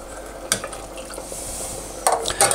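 Hot stock ladled into a saffron seafood risotto on medium heat, then stirred, with soft scraping and sloshing over a steady low sizzle and a few sharper utensil clinks near the end.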